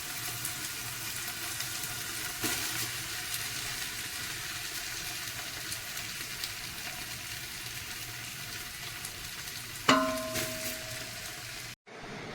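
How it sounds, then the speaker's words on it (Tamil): Biryani rice frying in ghee for Kerala-style chicken biryani, a steady, close sizzle that runs throughout. Near the end a sharp metallic clink of a utensil on the pan rings briefly, and there is no speech. "இந்த பிரியாணி ரைஸை இதுலேயே நல்லா ஃப்ரை பண்ணுங்க"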